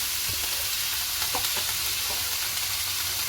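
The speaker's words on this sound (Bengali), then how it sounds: "সবজিগুলো প্রায় ভাজা হয়ে গেছে, সামান্য একটুখানি সয়া সস দিয়েছি" Vegetables with a splash of soy sauce fry in a pan, giving a steady, close sizzle with a few soft stirring clicks and scrapes running through it.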